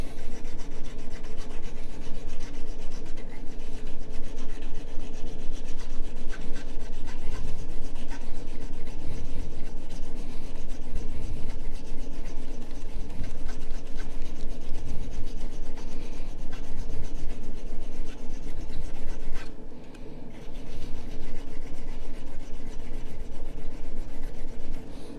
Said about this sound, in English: Small little files like this have small teeth, so when you're filing a lot like this, they get kind of gummed up